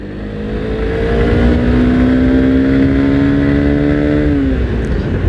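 A Honda XBlade 160 motorcycle accelerates hard in second gear, its engine note climbing steadily and loud and close for several seconds before easing off near the end.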